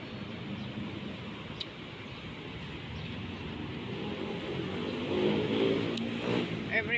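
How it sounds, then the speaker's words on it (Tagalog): Morning road traffic in Bangkok, Thailand, with a steady hum of engines that swells as nearer vehicles pass, heard as if from a footbridge, with faint talk under it. "ganyan din ka traffic dito sa Thailand"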